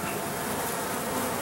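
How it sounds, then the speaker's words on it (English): A dense, steady buzzing of many honey bees at an open top bar hive fills the air, continuous and close with no pauses. "my goodness, there's a lot of bees"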